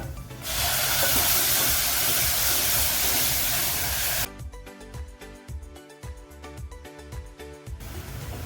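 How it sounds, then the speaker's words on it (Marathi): Ground masala paste for a catfish (singhara) curry hits hot oil with a loud, dense hiss that holds for several seconds, then cuts abruptly into quieter rhythmic crackling and pulsing sounds. "हे वाटप आपलं दोन मिनटं परतवून झाले"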